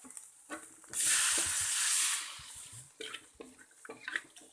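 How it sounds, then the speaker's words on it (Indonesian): A loud burst of sizzling hiss as a little water hits a hot pan of stir-fried kailan, lasting about a second, then fading into quieter clatter and faint stirring sounds. "Kita tambahkan air sedikit."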